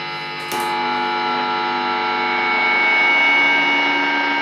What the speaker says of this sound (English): now it's feeding back.